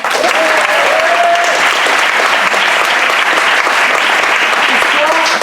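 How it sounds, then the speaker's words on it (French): Audience at a comedy show applauding, a dense, steady wash of clapping that fills the room throughout, with a few voices calling out faintly above it. "s'il vous plaît, encore un applaudissement."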